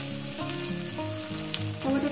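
Tomatoes sizzle steadily in hot oil over fried potatoes for a fish curry, a dense crackling hiss with faint stirring sounds underneath.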